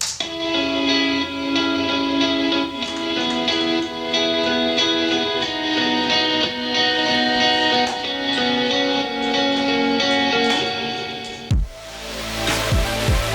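Two guitar lines play together, a sustained layered chordal texture with a higher melodic part on top, steady and fairly loud before cutting off near the end.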